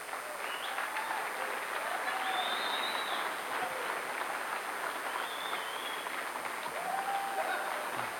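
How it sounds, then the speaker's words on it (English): Sustained audience applause fills a conference hall at a security convention, a dense steady wash of clapping with a few faint whistles, lasting throughout. "Give a round of applause."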